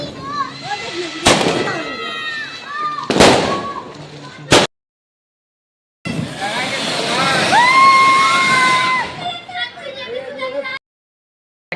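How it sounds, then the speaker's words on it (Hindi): Diwali firecrackers and fireworks, including sparklers, fountain crackers and aerial shots, go off in sharp bursts and crackling spells with a long whistling rocket, loud and close amid chattering voices and a crowd. "काफ़ी फुलझड़ियाँ वगैरह जलाया गया, अनार वगैरह जलाया गया, और फायर शॉट वगैरह भी काफ़ी जलाया गया"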